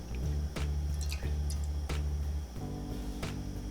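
Heavy cream poured from a container into a non-stick pan on a stovetop, a close, steady liquid pour with soft wet drips and splashes over a constant low background hum.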